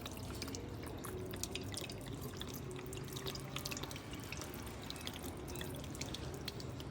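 Water trickles and drips faintly as the water is changed in a bottle holding a rooted money plant, a quiet continuous wash with no voices.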